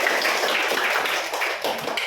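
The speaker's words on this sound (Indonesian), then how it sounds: "tepuk tangan dong untuk kita semua" Classroom applause at an elementary school as pupils clap together, a dense burst of close, bright hand claps that carries on steadily for a couple of seconds.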